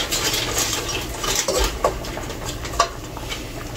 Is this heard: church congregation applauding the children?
no